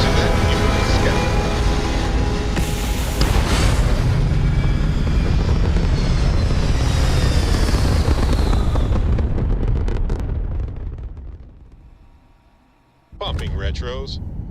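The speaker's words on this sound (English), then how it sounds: "Liftoff initiated, Captain." A spacecraft lifts off with a loud, sustained roaring rumble that holds steady for about ten seconds, then fades away into near silence before a sharp burst of noise returns at the end; voices speak over it.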